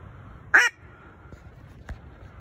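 A single loud honk from waterfowl on a New York duck hunt, followed by a much fainter call about a second later, both distant and outdoors over low background noise, with no voices.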